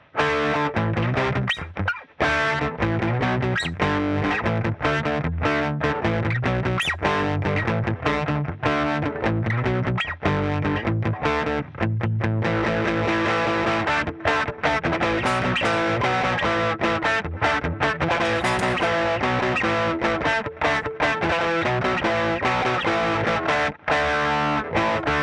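An electric guitar plays through a Fender amp with a Tube Screamer overdrive, giving a thick distorted tone in dense, continuous chords and riffs that stay loud and unbroken throughout.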